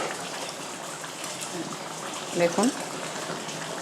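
A pot lid is lifted off meat and potato curry simmering over a low gas flame, with soft, continuous bubbling, a brief clink partway through and a voice speaking over it.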